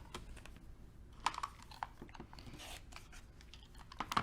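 Quilt fabric for a Moonbeams quilt is trimmed a quarter inch from a sewn line, giving close, crisp, irregular snips and crunchy cuts spread over a few seconds, with no talking.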